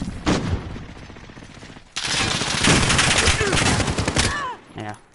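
Rapid automatic gunfire bursts from the video game Call of Duty Modern Warfare 2 crackle loudly and almost continuously, with a lull near the start and a few trailing shots at the end.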